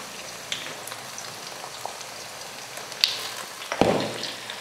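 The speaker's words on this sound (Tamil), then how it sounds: "வதங்கினதுக்கப்புறம் மஞ்சள் தூள், அடுத்து நம்ம வறுத்து அரைச்சோம் இல்லையா அந்த மசாலா இதில் சேர்த்துடலாம்." A vegetable sautés in oil with turmeric and roasted ground masala for a kuzhambu. A soft, steady frying hiss carries a few light taps and one sharper clatter near the end, with no talking.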